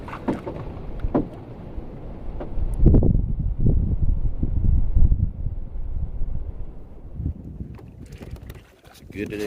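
Gusty wind buffets a phone microphone while kayaking at Merritts Mill Pond, Florida, with low rumbling bursts, loud and continuous, with brief rustling and faint sounds of movement.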